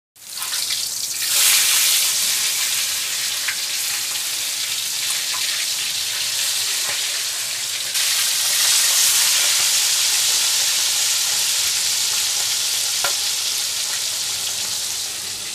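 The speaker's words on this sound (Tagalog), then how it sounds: "Igigisa ko lang yan sa bawang, idol." Chayote shoots sautéing with garlic in a frying pan, a steady, loud, hissing sizzle that runs unbroken with no voices.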